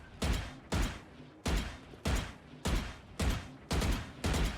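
Evenly spaced gunshots ring out in an aim-training deathmatch video game, eight sharp reports about half a second apart, each with a short decaying tail, loud and close with no talking.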